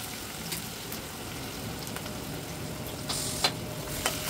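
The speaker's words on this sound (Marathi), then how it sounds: "छान फोडणी होऊ द्यायची।" Onion, garlic and cumin sizzle in hot oil for a Kolhapuri dhaba-style dal tadka, a quiet steady crackling hiss with a few sharper pops near the end.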